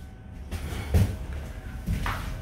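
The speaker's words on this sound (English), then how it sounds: "The roll-up door has a spring roll. It looks good. It does open and close fine." A spring-loaded roll-up door on a cargo trailer rattles and clunks as it moves, with two distinct knocking impacts about a second apart over low background rumble.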